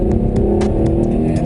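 2013 Hyundai Genesis Coupe 3.8 R-Spec V6 engine revving, a loud, steady gutsy growl heard close up for the whole moment, without talking.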